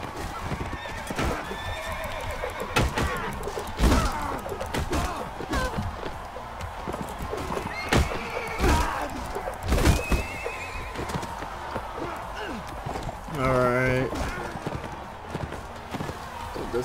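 Horse whinnies and clip-clopping hooves in the video game Mount and Blade Warband, with several neighs and hoof beats amid other game sounds and a voice speaking.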